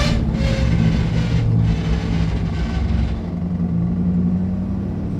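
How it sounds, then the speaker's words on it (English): A 1963 Chevrolet Impala with a chattering clutch idles and rumbles close by, a steady low engine drone that dips slightly midway through, alone without talk. "Got chatter in clutch"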